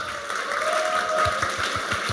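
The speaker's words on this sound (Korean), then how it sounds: "뜨거운 박수로 모시도록 하겠습니다" Audience applause welcoming a paper-airplane instructor at a one-day class in Gonjiam, a steady, moderately loud wash of clapping over the whole stretch with no talk.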